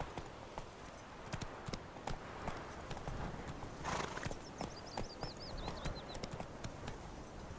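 Roach the horse gallops in The Witcher 3, with rhythmic hoof clip-clops on the ground over steady rushing ambience and a whinny partway through.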